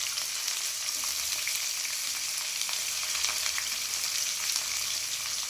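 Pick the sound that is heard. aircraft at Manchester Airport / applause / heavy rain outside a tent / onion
onion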